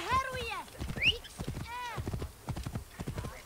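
Horse hooves clip-clopping in Assassin's Creed Origins, a steady rhythmic trot of close hoofbeats mixed with whinnying and snorting from the horse, with a voice speaking over it.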